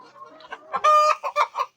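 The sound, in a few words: caged chickens clucking in poultry farm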